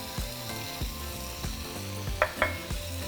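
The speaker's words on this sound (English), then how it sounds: "now we're just going to cook our meat for about 6 minutes" Ground meat seasoned with chili powder, paprika, oregano, chili flakes and cumin sizzles steadily in a pot for taco pasta, with a few sharp stirring scrapes and soft background music underneath.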